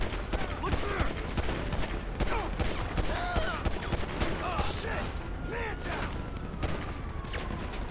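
Dense, continuous gunfire fills a chaotic GTA Online firefight, a steady barrage of shots layered with clatter and squealing effects, loud and unbroken from start to finish.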